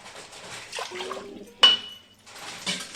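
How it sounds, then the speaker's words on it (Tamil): Water poured into a cooking pot for Kashmiri pulao, giving a splashing, trickling pour with a metallic clank of the pot partway through, all heard close up. "காஷ்மீர் புலாவ் தண்ணி ஊற்றி வேக வைக்க போகிறேன்."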